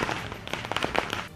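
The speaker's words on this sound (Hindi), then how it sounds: "अहमदाबाद में आतिशबाजी ऐसी हुई कि घंटों तक थमी ही नहीं।" Fireworks and firecrackers crackle in quick, irregular pops at a BJP election victory celebration in Ahmedabad, moderately loud amid crowd bustle.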